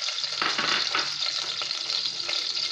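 Sliced onions dropped into hot cooking oil sizzle and crackle steadily, with occasional stirring scrapes over the frying, fairly close with no voices.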